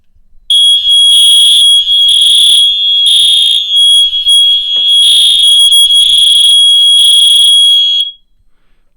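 A building fire alarm sounds during a system test at a control board, a loud, steady electronic tone pulsing with brief dips for about eight seconds before cutting off abruptly into near silence.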